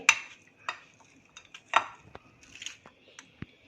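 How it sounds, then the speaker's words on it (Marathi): Sweet corn bhel being gently mixed with chaat masala and lemon juice: soft scattered clinks and scrapes of a spoon against a bowl, a few sharper taps among quiet stirring, close and fairly faint with no talking. "चाट मसाला, लिंबाचा रस आणि आपण आता हे व्यवस्थित सगळं मिक्स करूया."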